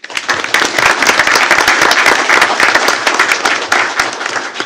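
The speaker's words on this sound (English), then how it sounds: "we'll give her a big round of applause" Audience at a school board of trustees meeting applauds a retiree, a full burst of many hands clapping that starts abruptly and keeps going steadily before easing slightly at the end.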